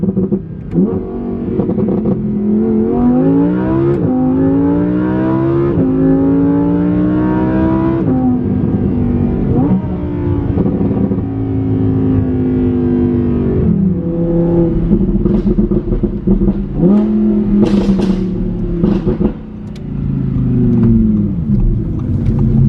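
Engine and road drone from inside a replica Lamborghini with the windows up, a steady loud hum with rising and falling harmonic sweeps as the car accelerates and shifts, continuous and close with no talking.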